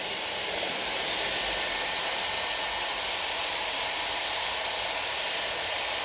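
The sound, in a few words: Dyson Airwrap hair styler blowing air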